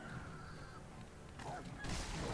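A chicken in the Sekiro video game giving short, faint fowl clucks and squawks at a distance, mixed with game ambience and a sharper noise burst near the end.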